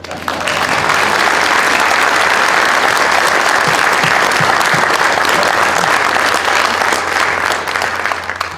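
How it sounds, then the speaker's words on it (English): Loud, sustained applause from a large audience at a Hall of Fame induction ceremony, dense clapping rising quickly and holding steady for several seconds before easing off at the end. "I'd like to have you give her a round of applause."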